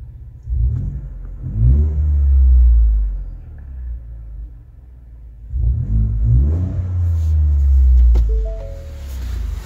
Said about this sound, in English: Bullet Performance exhaust.